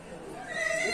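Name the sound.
horse neighing at a livestock market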